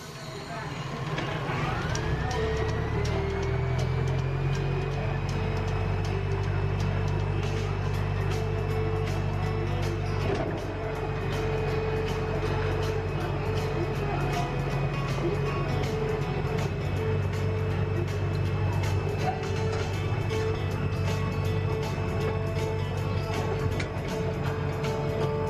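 Gatorland Express train ride, a steady rumbling engine drone with a long, sustained whistle-like tone held through most of the ride, clicks and rattles layered over it, a loud and continuous passenger-side perspective.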